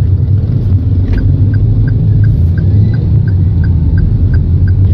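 A car engine rumbles loudly and steadily close by, with a faint regular ticking above it, as the car pulls away from a green light on a road in Nusantara, Indonesia; no talking.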